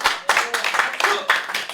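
Church congregation claps for the instrumentalists during a sermon, rhythmic bursts of hand clapping in an even beat, close and fairly loud, with no talk over it.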